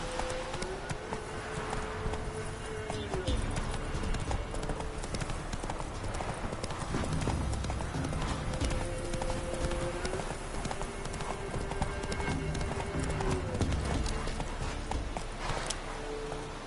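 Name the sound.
horse hooves clip-clopping in The Witcher 3 video game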